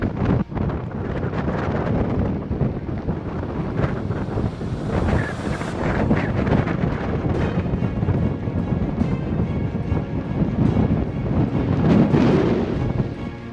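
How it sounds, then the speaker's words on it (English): Strong wind buffets the microphone outdoors on a cold day at the edge of a rainstorm in Death Valley, a continuous loud roaring gust with no voices. "We're on the outskirts of the rain, but the inskirts of the wind."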